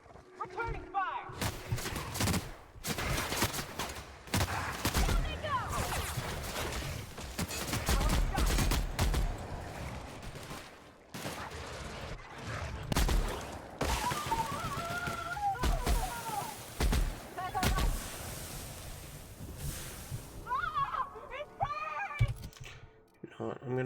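A sustained exchange of gunfire in the video game The Outer Worlds, with dense bursts of shots and impacts running throughout and voices talking over the din.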